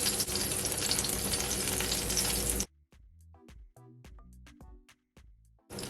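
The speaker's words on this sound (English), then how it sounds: "So now I'm gonna toast my buns." Burger buns toast in melted butter in a pot, starting as a loud, dense frying sizzle that cuts off abruptly, followed by quieter scattered clicks and taps with occasional bursts of sizzle.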